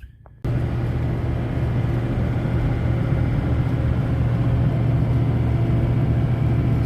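A car cruises along a road near the Colorado River on the California side around Blythe, its engine and road noise a steady, loud, close drone that starts abruptly after a brief quiet moment and continues unbroken.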